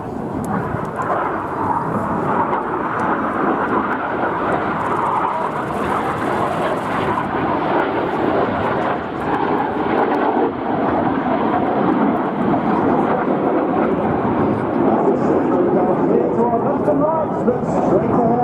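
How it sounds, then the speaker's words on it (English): Red Arrows jet display with two jets barrel-rolling toward each other at high closing speed: a steady, loud, rumbling jet roar that fills the whole stretch without break, with a voice talking underneath. "Red 6 and 7 about to barrel roll towards each other in the double rolls."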